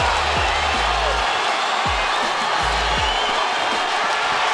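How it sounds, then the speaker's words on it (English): A large boxing crowd at Staples Center roars and cheers continuously after a fight, a loud dense wash of noise with deep booming thuds cutting through at intervals. "The crowd at Staples Center enjoying what they've seen."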